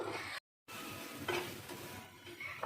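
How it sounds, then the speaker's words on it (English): A paste of almonds and milk cooks in ghee over a medium flame while a spoon keeps it moving, giving a soft sizzle with scraping stirring strokes. A brief dead gap comes early, then the sizzle returns, and nobody talks. "Keep it in a medium flame and stir it continuously."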